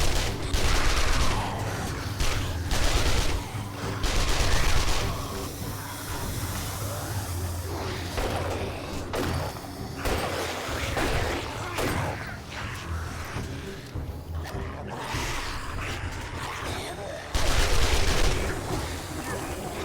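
Gunfire in the survival game 7 Days to Die, set in a burned forest, comes in repeated loud bursts of rapid shots mixed with hissy crackle, with short pauses between volleys.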